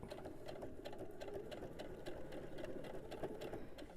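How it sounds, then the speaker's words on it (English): A sewing machine stitches a quilt block seam with a 1/4 inch presser foot, a quiet, continuous, rapid mechanical whir with faint ticking from the needle, steady throughout. "stitch it using your 1/4 inch foot"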